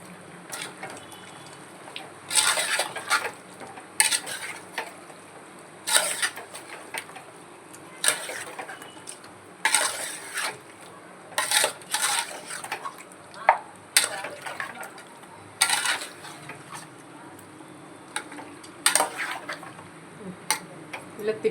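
A pan of chicken curry with turmeric being stirred by hand, giving a run of soft, wet scraping and sloshing strokes in irregular bursts against a quiet kitchen background.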